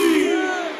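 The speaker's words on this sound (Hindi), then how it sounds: "एक बार जयकारा लगेगा, बोलिए श्याम प्यारे" A crowd at a Khatu Shyam sankirtan festival in Jatheri village bellows a brief devotional jaikara for Shyam, many voices joined in one loud sustained shout that fades slightly at the end.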